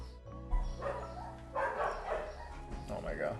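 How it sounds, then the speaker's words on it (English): Dogs bark and yip at a distance in several rough, overlapping bursts, partly under a person talking nearby. "Oh my god, dogs."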